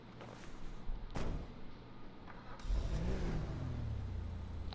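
Canis Seminole Frontier off-road car engine in GTA Online, a mid-pitched motor idling and then revving up, a sharp transient early on and a building roar toward the end, no talking.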